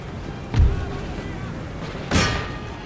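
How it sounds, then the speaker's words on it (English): Cannons fire in an Empire Total War battle: two separate booming shots about a second and a half apart, each a sharp thump that fades quickly, over a low background hum. "Cannons, I told you to stop firing, so stop firing."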